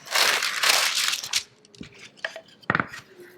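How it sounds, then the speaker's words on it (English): Parchment paper being grabbed and handled while making homemade raw milk butter, loud close crinkling and rustling in bursts, then a few lighter scrapes and taps on a kitchen counter. "I'll just grab a piece of parchment paper."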